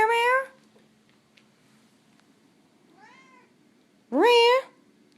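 An overweight cat meows: one loud, drawn-out meow at the start, a faint short one in the middle, and another loud, rising meow near the end, with near silence between.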